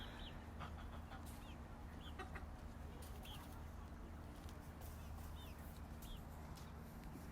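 A hen clucks softly in short bursts amid a faint, steady outdoor background, fairly quiet and a little distant, with a low constant hum underneath throughout.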